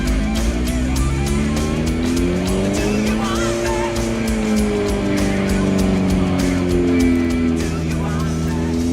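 A Suzuki GSXR motorcycle engine runs at full throttle on a dyno, a loud continuous roar with rising and falling harmonic tones as revs sweep up, close and dominant over any background.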